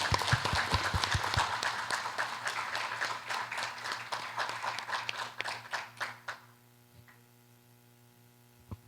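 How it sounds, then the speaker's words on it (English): An audience claps for WWF at the close of a two-day event, a dense burst of applause that thins into scattered claps and fades out after about six seconds, leaving a low hum. "if we could have a round of applause for WWF"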